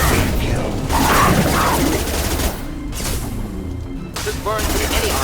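An incineration weapon fires during a test in Mass Effect 2, with loud bursts and booming blasts arriving in a few separate surges, mixed with mechanical noise and talk from characters.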